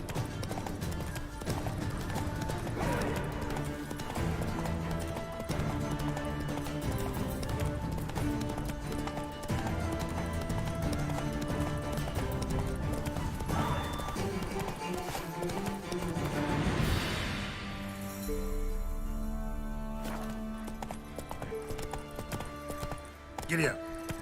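A horse gallops in The Witcher 3 with rhythmic, rapid clip-clop hoofbeats under game music and effects. The hoofbeats fade near the end as the scene shifts.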